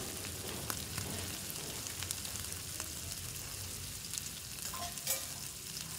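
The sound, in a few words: katla fish head frying on low flame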